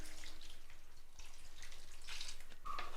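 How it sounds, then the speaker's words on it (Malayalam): Water trickles and drips into a banana and drumstick curry, a faint, quiet pour with a few brief splashes and no voices. "കുറച്ച് വെള്ളം കൂടി ചേർത്ത് കൊടുക്കാം"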